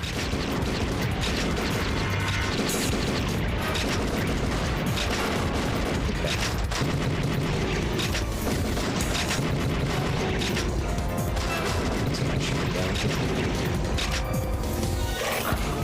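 Constant rapid gunfire rattles without pause as zombies are shot in the House of the Dead III arcade game, with dense, loud bursts and booms under layered game effects.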